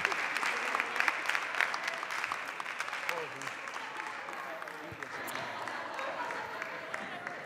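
Sustained applause from a theatre audience at a live stage performance, a dense, even wash of clapping that holds steady throughout without a break.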